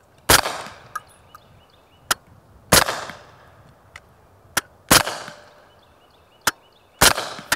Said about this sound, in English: You can hear the thud down range. So that Omega 9K does really take the edge off.